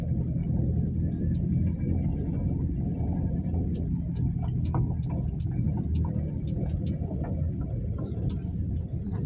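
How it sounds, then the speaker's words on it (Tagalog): A motor tricycle in Pakistan gives off a loud, continuous engine rumble from close by, steady throughout, with faint rattling ticks on top. "Yan yung tricycle dito sa Pakistan."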